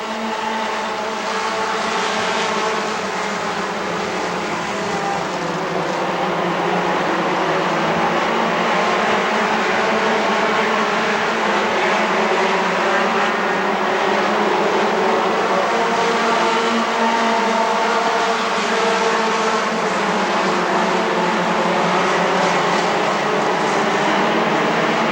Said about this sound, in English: There's the green flag and we're racing.